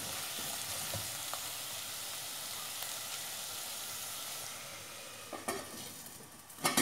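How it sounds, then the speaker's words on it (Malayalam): Snake gourd thoran frying in a pan, with a steady close sizzle throughout and a few soft scraping clicks of stirring near the end. "ഒന്ന് നന്നായിട്ട് ഇളക്കിയിട്ട് അടച്ച് വെക്കണം."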